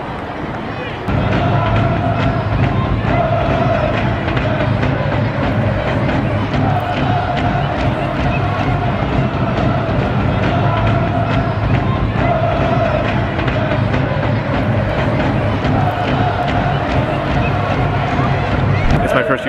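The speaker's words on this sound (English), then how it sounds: "They look good, but they're doing the I Believe chant" Stadium crowd at a USA v Mexico soccer friendly, a dense, loud roar of massed voices and chanting that holds steady throughout, with nearby talk mixed in.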